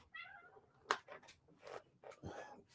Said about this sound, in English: down cat with all your belly aching